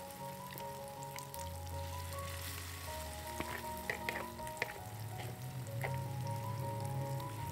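Tempeh fries in hot oil in a home kitchen with a steady, close crackling sizzle, broken by occasional sharp clinks of a utensil against the pan.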